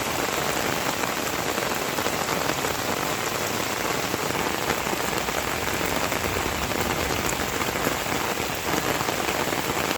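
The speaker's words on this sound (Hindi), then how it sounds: "यहाँ तेज हवाओं के साथ धुआंधार बारिश बरसती हुई देखी गई" Heavy rain pours down steadily with strong winds in an Indian town, a dense, continuous wash of loud rainfall on surfaces with no voices, unbroken throughout.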